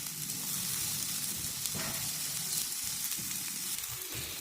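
Medium onion frying in a pan for masala, softening toward golden: an even, dense sizzle throughout with faint stirring scrapes now and then, close and moderately quiet.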